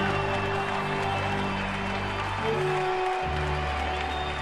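Crowd at a Colorado Rockies baseball game on a Thursday afternoon applauding Todd Helton's 2000th game, a steady broad wash of clapping and cheering throughout with a low hum beneath.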